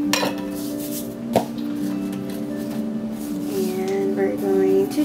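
A metal spoon clinks and scrapes against a dish while rat food is mixed: a few sharp taps, then ringing, rattling contact over continuous background noise.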